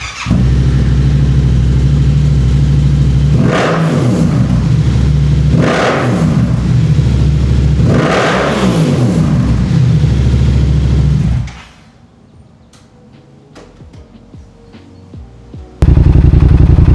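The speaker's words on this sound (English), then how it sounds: "I swear, the sound this exhaust makes could probably convert a Karen." A Yamaha R7 motorcycle with an aftermarket exhaust revs hard three times in quick succession over a loud, steady engine drone, then drops abruptly to a quiet idle before surging loud again at the very end.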